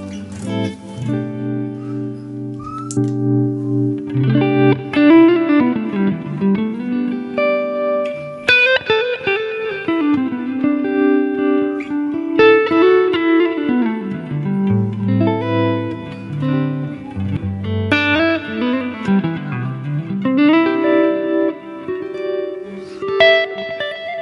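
Electric guitar played through a Helix amp model with a Timmy overdrive in front, gain at 3.8 and clipping up, gives a mildly driven tone. Sustained chords and melodic lines ring out with reverb, steady and upfront, with no talking.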